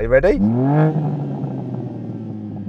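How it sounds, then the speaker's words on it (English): A BMW M2 engine revs up sharply, then drops into a steady, throaty idle rumble; a brief spoken question comes just before the rev. "I'm going to rev up my European car."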